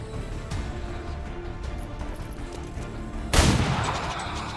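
Gunfire from XCOM 2: War of the Chosen, a single sharp, loud shot fired at a sectoid, bursting out after a stretch of low game ambience and rumbling into a decaying tail.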